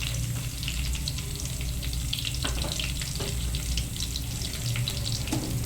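Mustard seeds and a pinch of turmeric sizzling in hot tempering oil for an eggplant dish, a loud continuous crackling sizzle with scattered pops, close and steady, with no talking.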